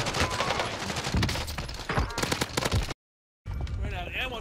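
Rapid automatic gunfire in a Warzone match on Rebirth Island, with dense close bursts of shots and fragments of voice, cutting briefly to silence before a different distorted sound resumes.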